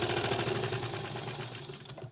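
A sewing machine stitches down the edge of a scrappy fabric tree skirt, a steady, close mechanical whir with a rapid needle rhythm that runs evenly before slowing and stopping at the end.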